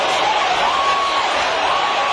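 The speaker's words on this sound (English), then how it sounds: "Listen to this crowd" A boxing arena crowd roars in a steady, loud, unbroken wash during a heavyweight bout, Larry Holmes against Tim Witherspoon, with no single voice standing out.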